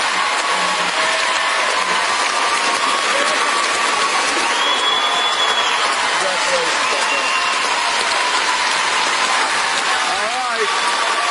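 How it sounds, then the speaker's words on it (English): Studio audience at a live dance competition show applauding and cheering, a dense, steady wash of clapping and crowd noise that fills the whole stretch at high level. "I think everyone here should stand up and applaud you."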